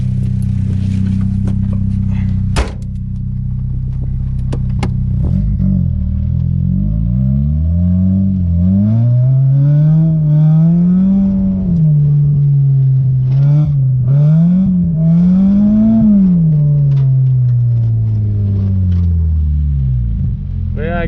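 A Mazda Miata drifting, its engine revving hard and rising and falling in pitch over a steady loud rumble, with a sharp bang near the start and tire noise under the rising revs.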